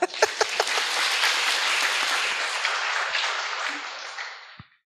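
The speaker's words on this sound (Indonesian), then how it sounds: "Tepuk tangan, tepuk tangan" A burst of lively clapping from a group, starting with a few sharp claps, holding steady for several seconds, then fading out.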